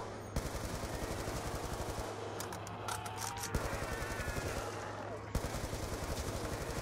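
Rapid automatic gunfire in Black Ops 2 Zombies on the Die Rise map, bursts of fast, evenly spaced shots with brief breaks, a low hum running beneath and faint talk mixed in.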